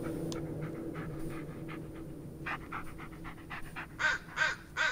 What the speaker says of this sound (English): Oh, it's my doggy.